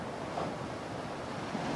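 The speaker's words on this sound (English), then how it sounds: "Looking at the gentle waves of Lake Ontario lapping in this morning." Gentle waves of Lake Ontario lap at the shore on a morning, a steady, even wash of surf noise mixed with some wind, with no talking.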